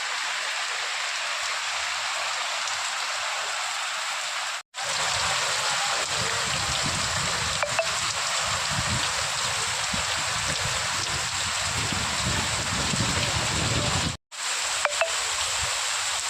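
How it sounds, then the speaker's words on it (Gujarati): Heavy monsoon rain pours down steadily over farm fields of groundnut crops in Banaskantha, a dense, continuous roaring hiss that stays loud and even throughout, broken only by two very brief cuts. "જોઈ શકો છો તમે કે કેવો વરસાદ પડેલો છે"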